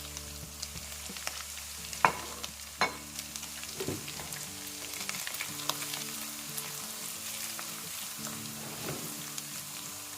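Turmeric, red chili, cumin and coriander powders frying in a pan, a soft continuous sizzle with scattered crackles and a few sharp clinks from stirring, close and with no talking.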